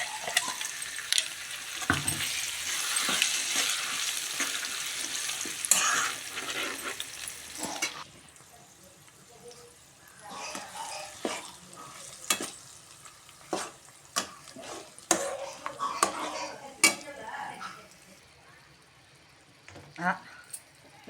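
Gongura chutney fries in tempering oil, a loud sizzle at first that settles into quieter frying, punctuated by repeated stirring scrapes and clinks of a spoon against the pan, with someone talking over it.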